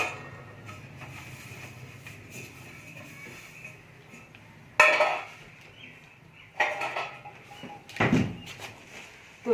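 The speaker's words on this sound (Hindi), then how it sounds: "तो अब मैं ये जो बर्तन हैं इनको साफ करूँगी।" Metal cooking pots and utensils clatter and clank in short bursts as they are washed and stacked away in a village home, a few sharp knocks rising above a low steady background.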